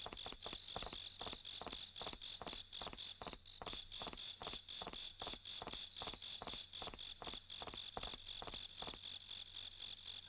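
Steady, dense cricket chirping fills a nighttime scene in the video game Twilight Syndrome, a continuous pulsing trill running the whole time without pause, moderately loud and alone with no talk.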